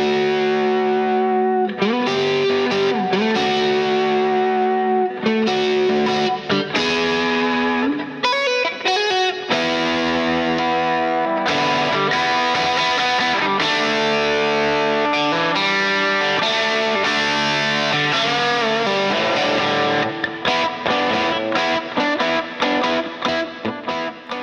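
Electric guitar run through a germanium effects pedal plays an opening jam, a loud, continuous stretch of driven, chorus-tinged chords and riffs with sustained notes and no talking.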